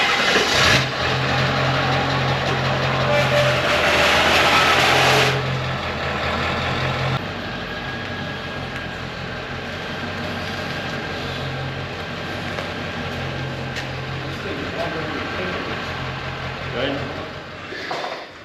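A small engine that needs fresh fuel and a carb clean idles loudly nearby, then rises as the machine drives off and fades into a steadier running hum, with people talking over it.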